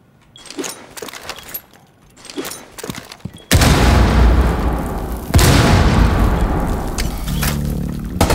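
A grenade blast in Rainbow Six Siege bursts in loud and sudden partway through, leaving a sustained roaring rumble with a second heavy thump, after quieter scattered in-game clicks and footsteps.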